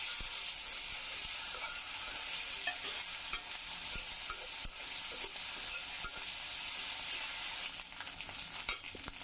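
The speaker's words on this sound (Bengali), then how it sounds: "আদা রসুন দিয়ে দিচ্ছি" Ginger and garlic frying with softened onions in a pan for a shrimp and okra dish, giving a steady, loud sizzle with soft stirring scrapes throughout and no talking.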